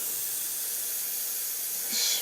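Steady, close hiss of an airbrush spraying cleaner for about two seconds, unbroken and fairly loud, with no talking.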